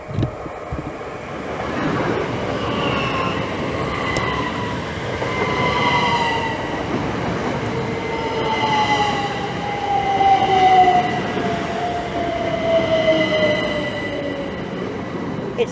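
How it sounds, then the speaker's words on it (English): A Class 387 Thameslink passenger train pulls into Hitchin station on the East Coast Main Line, a steady rumble of rail noise with a rising wheel squeal partway through, heard close by with some wind buffeting and no talking. "Arriving in now is 1 Papa 22 at the 1050 Thameslink service from King's Cross to Peterborough"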